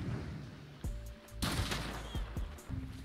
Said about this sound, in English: I think I'm getting shot at by another person